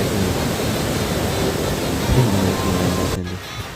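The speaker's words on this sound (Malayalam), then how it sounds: "ഇവിടെ വെള്ളച്ചാട്ടമാണ് സ്പെഷ്യൽ" A waterfall giving a dense, continuous roar of rushing water, steady and loud, ending with a brief dip near the end.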